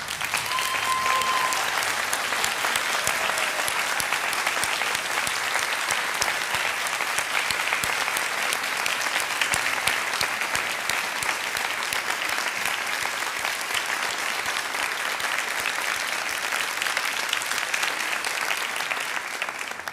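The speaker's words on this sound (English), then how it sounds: "Could I ask you now to be upstanding and applaud them by way of saying thank you for the support they've" A graduation ceremony audience applauds steadily for twenty seconds, a dense, even wash of many hands clapping in a large hall with no break.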